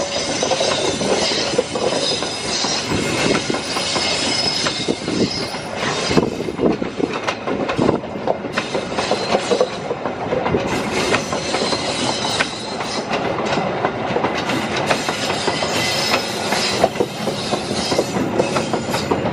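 The Argo Parahyangan passenger train, made up of cars from the Sidotopo depot, rolls past on the rails near Jatinegara station with loud continuous clickety-clack, rumble and occasional wheel squeal, close by and without talk.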